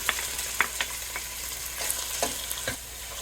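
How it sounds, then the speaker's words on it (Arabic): Tomato paste sauce sizzles in a frying pan while being stirred, with a soft steady fry hiss and several sharp scraping and clinking stirring strokes close by. "ونحركه بشكل جيد"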